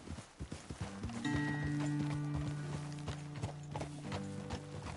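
Horse hooves clip-clop at a walking pace on a road in Red Dead Redemption 2, steady and fairly close, with a soft snort and ambient music beneath.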